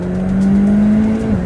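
A McLaren 720S supercar engine drones at steady high revs on the Sepang race track, a loud, continuous close-up tone heard from inside the car with no talking.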